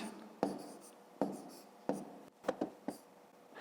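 Numbers of a subtraction problem are written by hand in a fifth-grade math exercise, heard as several close, distinct scratchy pen strokes in short bursts, alone without talk.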